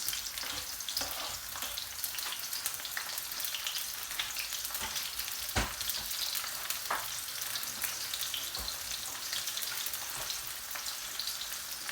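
Fried brown onion and green chilies being stirred in a pan: a steady, close, loud sizzle of frying runs throughout, broken by occasional sharp scrapes and knocks of the stirring utensil, with no talking.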